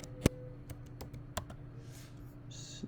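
A few scattered key clicks from a computer keyboard, quiet and close, with one sharper tap near the start and a brief soft rustle late in the pass.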